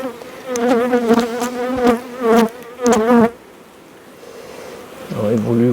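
Honeybees in a colony buzz close by during a hive inspection, with loud wavering hums that come in pulsing bursts, then a quieter stretch, then a low buzz returns at the end.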